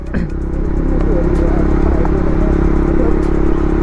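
KTM Duke 390 motorcycle riding on a road in Bhutan, a loud, steady engine drone with wind rush and rattle throughout, close and constant.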